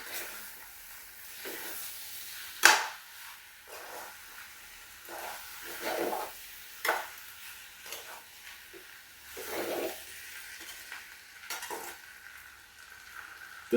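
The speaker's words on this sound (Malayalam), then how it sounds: "അതിലേക്ക് ഒരു നല്ല സ്പൂൺ പഞ്ചസാര ഇട്ട് കൊടുക്കുക. വീണ്ടും ഒന്ന് ഇളക്കാം." A spoon scrapes and stirs hot masala paste with sugar in a pan in a home kitchen, giving soft intermittent sizzles and scraping strokes at a moderate pace, close by and fairly quiet, with no talking.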